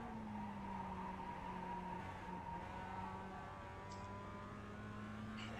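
A race car engine droning steadily in the iRacing sim, a sustained buzzing tone that holds at a fairly even pitch while shifting slightly, faint and quiet with no talk over it.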